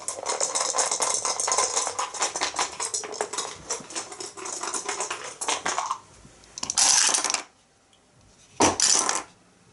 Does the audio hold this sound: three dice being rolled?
yes